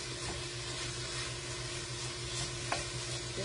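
Impossible Burger plant-based ground meat being broken up with a spoon in a hot pan with parsley, giving a steady close sizzle and frying hiss with light stirring scrapes throughout.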